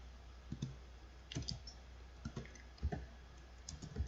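A computer keyboard is typed on in quick, irregular clicks and taps, close and fairly quiet, with no voices.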